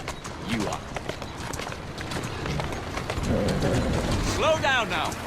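A galloping horse in Assassin's Creed Syndicate, rhythmic hoof clops under a low rumble, with a voice speaking over it and a brief whinny near the end.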